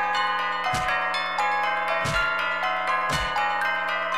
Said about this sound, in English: It's just the dinner bell.